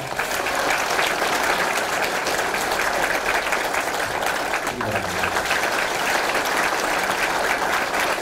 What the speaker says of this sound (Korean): 위원회 공동위원장으로 선출되신 안철수 발기인과 김한길 발기인 두 분께 다시 한번 격려의 큰 박수를 보내주시기 바랍니다